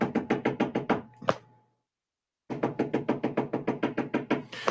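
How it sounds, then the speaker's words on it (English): Repeated loud knocking on a door, a steady run of about six raps, a short pause, then a second longer run of evenly spaced knocks, with no talking. "knock on the door."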